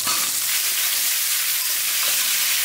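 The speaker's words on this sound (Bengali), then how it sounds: "আলুটা কিছুক্ষণ ভেজে এখন ফুলকপিগুলো সেই তেলে ভেজে নেব" Cauliflower pieces frying in hot oil left from frying potatoes, a loud, steady, dense sizzle that runs unbroken throughout, with no talking.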